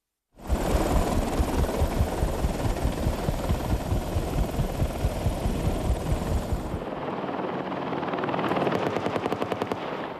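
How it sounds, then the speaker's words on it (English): An Apache AH-64A attack helicopter's rotor beats in loud, steady thumps close by during training in Germany, then the throbbing changes as rapid rattling bursts like machine-gun fire break in near the end. "AH-64A attack helicopter, shown here training in Germany, is a world-class killing machine"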